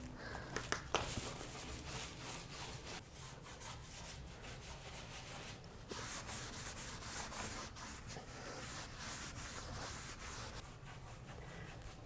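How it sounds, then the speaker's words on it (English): A dry lint-free cloth rubs excess wax off a chalk-painted wooden dresser, a steady soft rubbing and swishing that runs close and continuous throughout with no talk. "you take a dry, lint-free cloth and you wipe away the excess wax"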